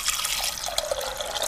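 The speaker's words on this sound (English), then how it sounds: "So let's add some more water" Water pours steadily into a pressure cooker holding chickpeas and a spice bag of whole garam masala, a continuous close splashing and trickling fill with no talk.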